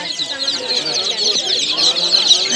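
Chicks and chickens at a poultry market in Uzbekistan: a dense, continuous chorus of high peeping from many chicks, with occasional clucks underneath, loud and steady throughout.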